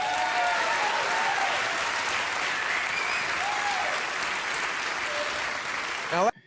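An audience claps steadily and densely for several seconds, the sustained applause cut off abruptly near the end, with faint background voices beneath.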